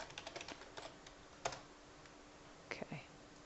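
Quiet clicking of a computer keyboard as a folder name is typed, a quick run of keystrokes followed by a few separate taps, faint and close.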